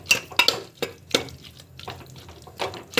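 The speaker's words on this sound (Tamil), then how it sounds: "இப்படி வந்து பார்த்திங்கன்னா நல்லா வந்து இப்படி கலக்கி விட்டுக்கோங்க." A spoon scrapes and knocks around a cooking pot of coconut curry in a quick series of sharp metallic clinks and soft stirring swishes, close and fairly quiet.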